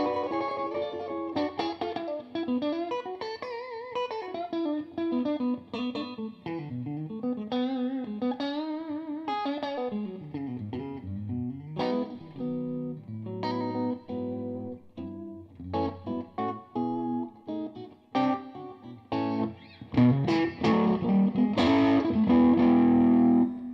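Distorted electric guitar played through heavy reverb, melodic lines and bends ringing out, ending in louder strummed chords.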